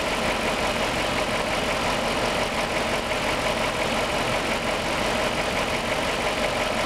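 A car engine idles with an ignition coil that is starting to fail, a loud, rough, steady rumble with a slightly uneven, shaky running and no voices.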